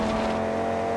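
A car's engine hums steadily with a strong, even tone through an all-wheel-drive drift in the racing game Forza Horizon 2, with no voices over it.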